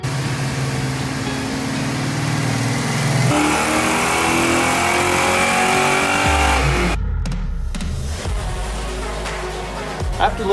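A car engine with GT40 intake modifications runs on a dyno, holding a loud, steady drone that climbs in pitch and then drops to a lower rumble near the end, with no voices.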